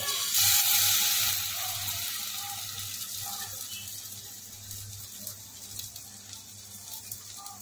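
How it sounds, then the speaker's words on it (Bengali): Batter-dipped eggs frying in white oil in a kadai, a broadband sizzle that swells loudly in the first second and then settles into a steady, softer crackle throughout. "আস্তে আস্তে করে একটা পর একটা সব দিয়ে সব কটাকে আমি ভেজে নেব।"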